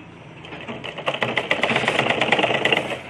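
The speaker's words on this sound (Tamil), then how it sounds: "அப்படி எடுத்து கொஞ்சம் கொஞ்சமாக தைங்க." Motor-driven sewing machine stitching a cross-cut blouse with cross pieces, a fast steady rattling patter of needle strokes that starts quieter and picks up into continuous close stitching.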